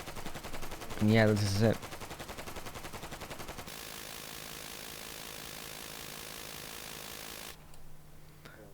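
An M60 machine gun fires in the video game Easy Red 2 in a long, steady, rapid burst that continues after a brief spoken line and stops abruptly near the end.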